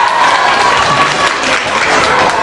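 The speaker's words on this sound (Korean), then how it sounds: "박수." Studio audience applause at a televised K-pop show, a loud, continuous crowd of clapping hands with light crowd murmur, filling the whole stretch without speech.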